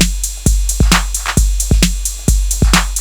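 An 808-style drum pattern from a Roland drum module loops with booming kicks, snappy snares and ticking hi-hats. The beat is a steady, punchy groove, loud and alone.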